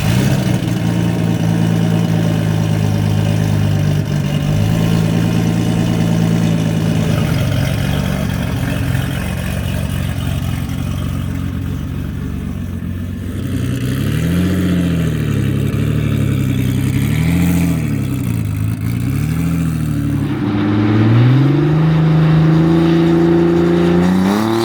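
A 1,200+ HP street Nissan 300ZX idles with a low steady drone from the cabin, then blips its throttle in several rising and falling revs, ending in a stronger rev, loud and close.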